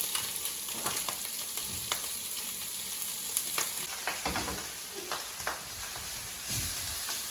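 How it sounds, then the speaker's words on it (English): A steak flipped in a hot pan for a quick keto/carnivore surf and turf meal, a soft steady sizzle underneath with a few sharp clicks and scrapes of the pan, quiet and close. "I just flipped the steak"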